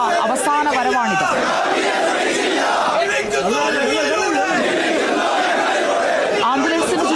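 Massed mourners chant political slogans in call-and-response bursts around an ambulance bearing V.S. to the party headquarters. Loud, close and sustained, the chorus rises and falls in rhythmic waves, with general crowd noise underneath.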